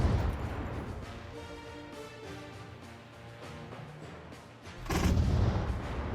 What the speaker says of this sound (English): Point blank artillery shots.